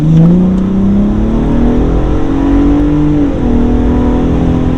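Aggressive engine and exhaust note of a 2022 Ford Raptor accelerating on the road, a loud, steady drone with rising and falling pitch as it pulls through gears, close and unbroken, with no talking.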